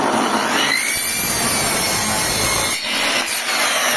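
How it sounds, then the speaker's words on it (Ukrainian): Power saw cutting a clamped wooden workpiece at a 45-degree angle, a close, steady rasping whine of blade through wood that holds on continuously with slight dips near the end. "І зараз ми включаємо і пиляємо."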